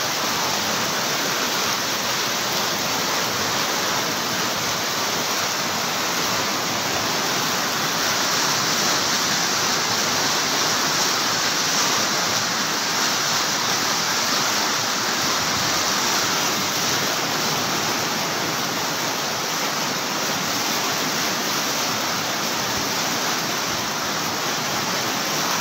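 Floodwater rushes through Bonbon, Libon, Albay in the Bicol Region, a loud, constant roaring wash of water that holds unbroken and even in level for the whole stretch, with no voices.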